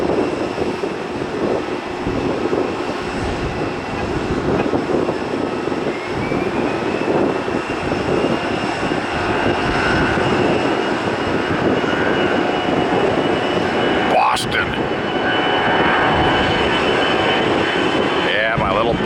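A jet airliner taking off at Tampa airport, its engines a loud, continuous roar close by, with radio chatter and voices heard over it.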